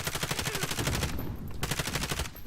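Rapid automatic gunfire in a first-person shooter video game, loud continuous bursts of closely spaced shots with a brief pause in the middle before firing resumes.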